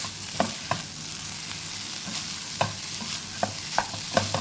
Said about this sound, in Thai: แล้วก็ผัดให้เข้ากัน